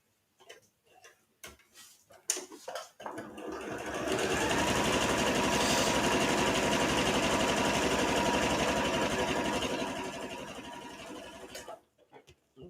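Close and loud, a sewing machine zigzag-stitches the raw edge of pajama pants fabric in one long run of rapid ticking chatter, with a few clicks before it starts and after it stops.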